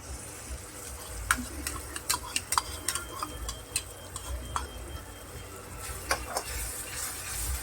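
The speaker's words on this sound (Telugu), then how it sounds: "ఇది మంచిగా దగ్గరికి వేగిపోవాలండి, మంచిగా రోస్ట్గా వేగిపోవాలి." Onions and spice paste frying for an egg gravy curry, a steady soft sizzle in the pan broken by sharp, irregular clicks and taps of a spoon stirring against the metal.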